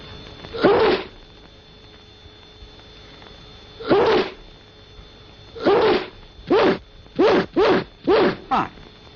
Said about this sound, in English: Handkerchief, sneeze. See what I mean?